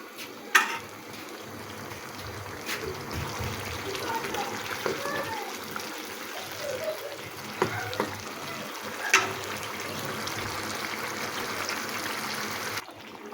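Sweet, sour and hot chili pickle cooks over heat in a pan with a soft, steady sizzle and bubbling, broken by a few sharp clinks of a spoon or stirring. A voice speaks faintly over it.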